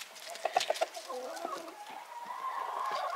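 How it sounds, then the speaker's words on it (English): A small backyard chicken gives a short run of quick, close clucks, then softer warbling murmurs, over quiet outdoor background. "There's the little chicken."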